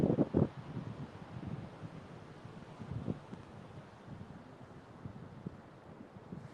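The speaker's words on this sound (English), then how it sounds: "it's a little windy" Steady wind buffets the microphone with low rumbling gusts on a beach, stronger at the start, with faint outdoor ambience and no talking.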